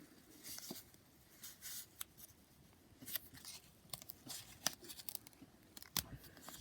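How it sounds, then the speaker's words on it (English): Foundation paper being torn and peeled away from a small butterfly charm quilt block, with soft, irregular ripping and crinkling bursts near the microphone, several brief tearing strokes spread across a quiet room. "remove the paper,"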